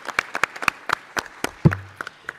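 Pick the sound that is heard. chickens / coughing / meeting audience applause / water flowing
meeting audience applause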